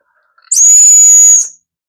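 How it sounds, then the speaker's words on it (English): A safety whistle from a race vest is blown once, a piercing, shrill blast lasting about a second, very loud and close, preceded by a few faint breathy puffs. "They say test the whistle."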